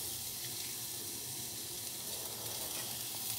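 Garlic sizzles in a hot frying pan as a pork mince, carrot and potato dish gets started, a steady broadband hiss throughout that stays fairly quiet and even.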